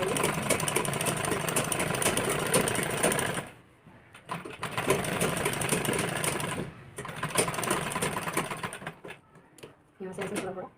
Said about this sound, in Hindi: बुकरम पे सिलाई मारेंगे